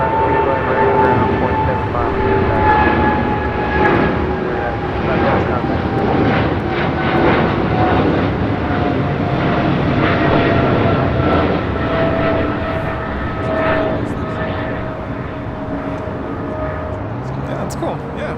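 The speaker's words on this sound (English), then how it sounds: "It's American Airlines Flight 2965 taking off to Dallas-Fort Worth on a 777-300ER." An American Airlines Boeing 777-300ER jet takes off at LAX, a loud sustained engine roar with a steady whine and slowly shifting tones, near and continuous, with voices talking over it.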